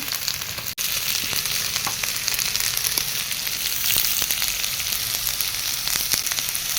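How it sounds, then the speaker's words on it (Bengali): Tomatoes sizzle and fry in a pan with ginger garlic paste and salt, a steady close crackling hiss with occasional stirring, no voices. "তিনটে টমেটো টমেটো দিয়ে দিচ্ছি এবং এই সঙ্গে দিয়ে দেবো একটু লবণ"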